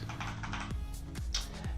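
Close, steady typing on a Cosmic Byte CB-GK-28 Vanth full-size budget mechanical RGB keyboard, producing a run of crisp clacking keystrokes with a few heavier thuds, heard alone without talk.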